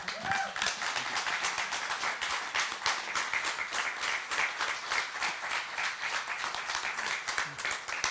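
Forum audience clapping at a tech event, a continuous patter of many hands at moderate level, fairly close and even, with no speech over it.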